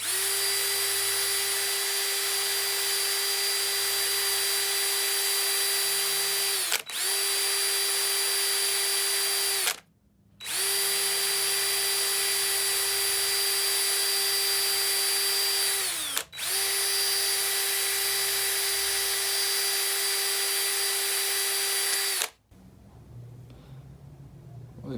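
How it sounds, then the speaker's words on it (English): Wire wheel on a power tool cleaning a steel valve from a Honda XR250L RFVC engine, a loud, steady high-pitched whine in long runs, briefly dropping out twice before stopping near the end. "I'm gonna wire wheel this."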